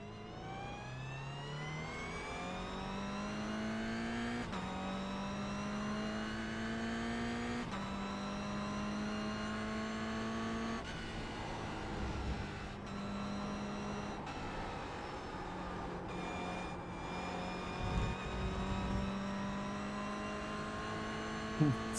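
A race car engine in a sim racing video game revs steadily through the gears, each upshift dropping the pitch before it climbs again, loud and continuous with occasional tire noise and no talking.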